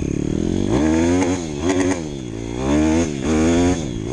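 A 2012 Honda CRZ 150 S dirt bike engine is blipped several times on the stand, its buzzy single-cylinder note rising and falling in quick throttle bursts, close and loud with no voices.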